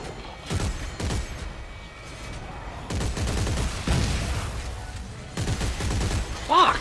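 Gunfire in the sci-fi horror game Dead Space 3, bursts of shots recurring through the clip under a tense game soundscape, with people talking over it.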